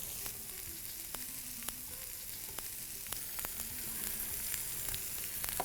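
Spices crackle and sizzle steadily in a hot pan of oil with curry leaves, with occasional sharp pops and soft stirring scrapes. The sound stays close and even throughout, with no talking.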